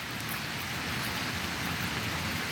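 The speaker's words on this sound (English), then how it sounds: "Because it is raining" Rain falls steadily at a dog park in New York City, a continuous hiss of drops on surfaces with no voices over it.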